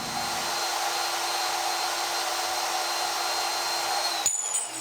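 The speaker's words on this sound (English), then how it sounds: "cutting them down into shorter pieces like these ones for the robot's intake, using the portaband" A portable band saw cutting metal tubes into shorter pieces for a robot intake, a steady close whining drone that runs throughout and shifts abruptly near the end as the cut finishes.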